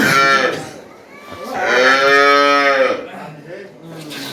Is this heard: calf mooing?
yes